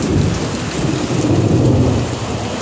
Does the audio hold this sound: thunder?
yes